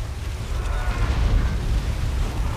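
Plague Marines blowing apart in a Warhammer strategy game, a rolling low boom and rumbling burst that holds steady for a few seconds, loud and dense.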